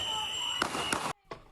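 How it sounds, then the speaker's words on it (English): Gunshots in news footage of a shooting involving federal agents: a few sharp, loud bangs crack out in quick succession over a steady noisy background with a high alarm-like tone. "followed by a flurry of gunshots"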